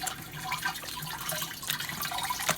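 Wet paper clay squeezed by hand so water drips and trickles down into a bucket, a close, uneven run of small splashes and drips, no talking.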